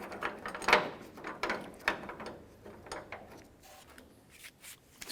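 Screws being run in with a ratchet on a tailgate hinge bracket of a Ford Ranger, threads coated with anti-seize; several short close clicking bursts at irregular intervals, fairly quiet with no talk.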